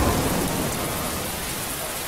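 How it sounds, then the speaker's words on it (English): A Rain of Fire spell in the strategy game Endless Legend pours down as a dense, steady roaring hiss with rumbling low end, loud and continuous throughout. "and here's the Rain of Fire."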